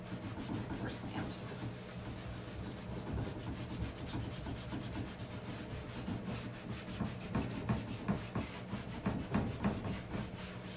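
A rag rubs wax over painted, stenciled furniture, making a steady close scrubbing and rasping sound that grows more rhythmic, with repeated back-and-forth strokes toward the end.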